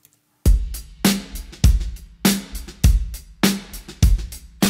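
A full drum kit plays a steady groove, with punchy kick and snare hits and ringing cymbals at a moderate pace, close and clear, with no voices.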